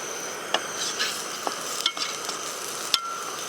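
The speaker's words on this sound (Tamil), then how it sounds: "எண்ணெய் ஊற்றி எண்ணெயில் பூண்டை நல்லா வதக்கி எடுத்துவோம்" Garlic frying in oil in a pan, a steady soft sizzle with a few sharp clicks and scrapes from stirring, close and moderately loud, with no voices.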